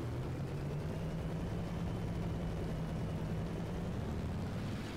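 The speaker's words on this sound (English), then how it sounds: "So it's in position, begin to throttle up, flaps to takeoff." Aircraft engine throttling up on the runway for takeoff in War Thunder, a steady loud droning rumble with a low hum that holds throughout.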